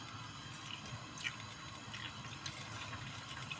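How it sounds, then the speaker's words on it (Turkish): Hot water is poured into a pot of Turkish rotten soup, making a faint, steady trickle and splash at close range with a few soft drips. "Şimdi tekrar sıcak suyumu alıyorum."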